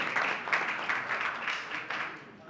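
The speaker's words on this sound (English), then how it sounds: "Can we give a welcoming round of applause to both of them?" Audience applause welcoming two speakers at a film festival masterclass on film distribution, a moderately loud, steady patter of many hands clapping, heard alone without talk.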